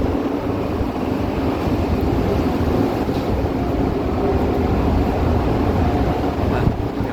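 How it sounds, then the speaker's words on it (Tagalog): Strong wind roars steadily and closely against the microphone, a constant dense rumble with no speech over it. "malakas yung hangin"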